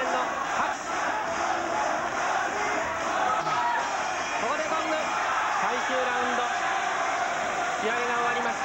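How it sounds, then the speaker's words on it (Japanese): A large crowd roars and cheers continuously, with scattered shouts and whoops rising throughout a busy arena at a 1983 Japanese lightweight title boxing match. "大きな声援の拍手"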